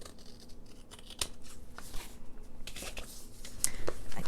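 Scissors trim a paper bag craft with close, crisp snips and cuts, several irregular strokes with soft paper rustling between them.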